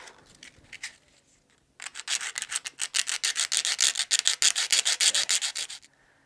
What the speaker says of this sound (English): Sanded that a little bit